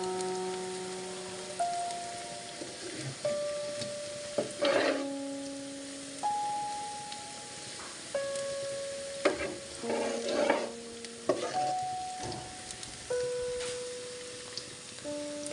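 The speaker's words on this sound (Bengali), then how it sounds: "পেঁয়াজগুলো এপাশ থেকে ওপাশ ভালো করে নেড়ে ছেড়ে ভেজে নিচ্ছি" Onions are stirred and fried in a pan over medium heat, a soft sizzle broken by scraping stirs and light clatters, heard faintly under steady background music.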